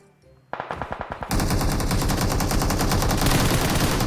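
Gunfire in the video game PUBG Mobile: a quick run of about eight separate loud shots, then a dense, sustained stream of rapid automatic fire, close and heavy, with no voices.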